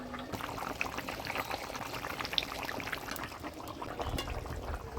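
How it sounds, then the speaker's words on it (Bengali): Thin curry broth with potato and squash simmers and bubbles steadily as fried China puti fish pieces are added, a continuous moderate liquid churn with small splashes and no talking. "ঝোলের উপর মাছ দিয়ে দিলাম"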